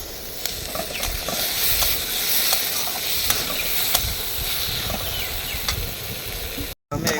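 Chopped tomato frying in a pan for achari chicken, with a steady sizzle and hiss and repeated light scraping strokes of stirring throughout, briefly cut off near the end.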